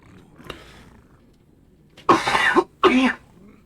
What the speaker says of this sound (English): Got a cough going on.